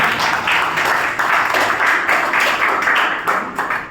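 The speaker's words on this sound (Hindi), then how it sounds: "और मैं चाहूंगा पंकज सर के लिए जोरदार तालियां।" Loud, sustained applause from a crowd at a get-together in Dehradun, dense clapping filling the whole stretch without a break.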